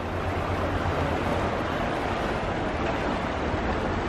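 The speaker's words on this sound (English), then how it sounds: "Little rapids over here." Small rapids in a cold, clear mountain stream near Gatlinburg, Tennessee rush as a steady, broadband wash of water, close and continuous, with no voices.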